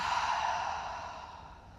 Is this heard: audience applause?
no